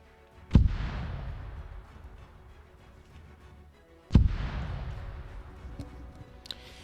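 Artillery fire support barrage in the WW2 game Iron Front Arma: two heavy booms about three and a half seconds apart, each a sharp, loud blast trailing into a long rumbling decay, with no talk over them.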